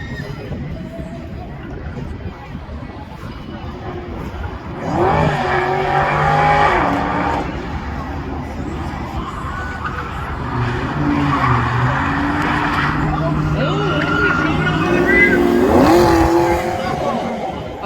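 Pontiac drag racing car launching early from the inside lane at a spectator drag event, engine revving and rising over crowd noise with a rough, loud roar, while an announcer talks.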